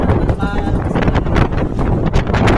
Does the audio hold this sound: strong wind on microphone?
yes